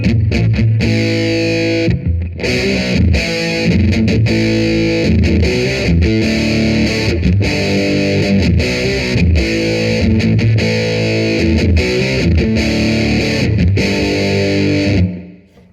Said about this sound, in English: And you got to go, you got those palm muting chug sounds.